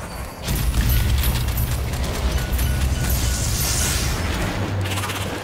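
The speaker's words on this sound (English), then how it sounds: "Grenade away!" Grenade blast in the co-op shooter Strange Brigade during horde mode, a loud booming detonation followed by sustained rumbling debris and crackle that stays heavy and dense without voices.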